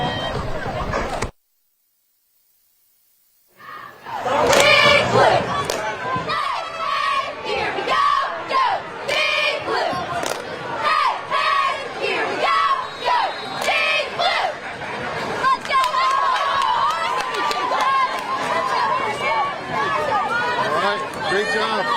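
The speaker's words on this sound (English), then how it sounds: "Can you give us our favorite cheer?" Cheerleaders chant their favorite cheer in unison at a Friday night high school football rivalry between Philip Simmons and Hanahan, loud energetic shouting blending with crowd noise after a brief silence.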